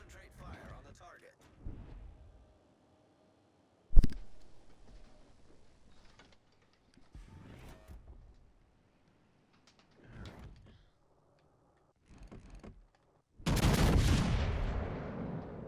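Naval gunfire from battleship Rodney in World of Warships: several sharp, distant-sounding shots spaced across the stretch, one louder report near the start, then a loud sustained roar of a big salvo toward the end. No one speaks.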